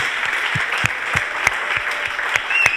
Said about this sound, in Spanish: por favor un aplauso para todos